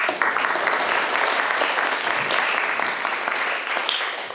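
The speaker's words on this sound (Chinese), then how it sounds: "刘老师，大家掌声欢迎。" Sustained audience applause welcoming a guest lecturer at a university humanities and technology talk, dense even clapping lasting several seconds and easing slightly near the end.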